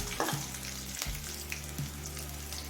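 Black cumin (nigella) seeds fry in hot oil with a soft, steady sizzle and faint crackle, and a low tonal hum sits underneath throughout.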